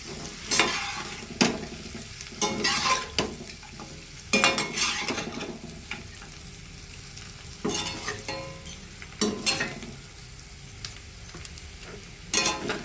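Chicken and onions for a Thiruvananthapuram-style chicken fry are stirred in a hot pan, with repeated scraping strokes over a steady background sizzle and no talking.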